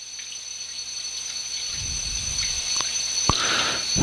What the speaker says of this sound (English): Rinse off the brush. And rinse out the barrel.